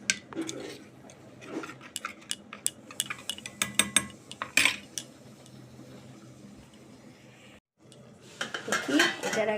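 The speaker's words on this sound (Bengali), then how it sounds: "এবার এটা আমি একটু ঘেটে দেবো" Bottle gourd being stirred with cumin and turmeric in a pan, with a utensil scraping and clinking against the metal in irregular taps and rattles, a brief pause, then a louder burst of scraping toward the end.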